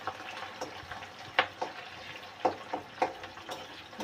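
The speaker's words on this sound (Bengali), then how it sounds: "তেলটা গরম হয়ে গেছে, এবার বেরেস্তার জন্য পেঁয়াজগুলো তেলের মধ্যে দিয়ে দিলাম।" Sliced onions fry in hot oil for biryani birista, a soft steady sizzle close by, punctuated by a few brief stirring scrapes and pops.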